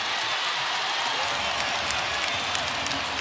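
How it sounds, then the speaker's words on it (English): Roaring, continuous crowd noise from a packed Chase Center basketball arena during a Warriors versus Bucks game, a dense wash of cheering with scattered clapping and no distinct voices. "Oh, this crowd is alive here at the Chase Center."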